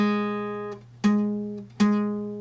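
A single guitar note, poorly fretted, is plucked three times, each ringing briefly with a slightly buzzy, muted edge before decaying.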